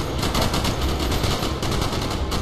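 Rapid automatic gunfire in the Call of Duty: Black Ops video game, a dense, loud, continuous stream of shots with no pauses.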